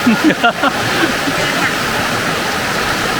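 Silaphet Waterfall in Nan, Thailand roars as a steady, loud wash of falling water, with a few brief voice sounds at the start before the rushing continues alone.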